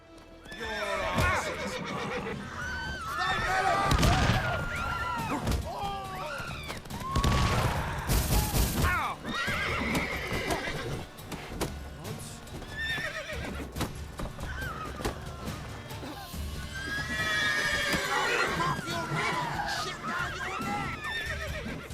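Horses neigh and whinny repeatedly over clopping hooves in the video game The Witcher 3, with bursts of gunfire and a busy, loud backdrop.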